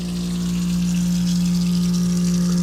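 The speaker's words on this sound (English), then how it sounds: "And now I'm draining the water tank." An electric pump drains the water tank aboard a boat docked at Indian Town Marina in Florida. It gives a steady, close droning hum under a constant watery hiss, unbroken from start to end.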